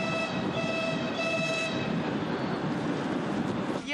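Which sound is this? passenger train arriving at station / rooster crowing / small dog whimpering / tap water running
passenger train arriving at station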